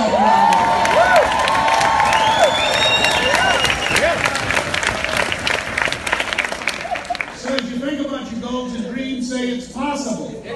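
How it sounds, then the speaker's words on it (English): Audience at a motivational speech in Jamaica applauding and cheering loudly and steadily for about seven seconds, with whoops over dense clapping, then fading as a voice rises over the thinning crowd. "Give yourself a round of applause"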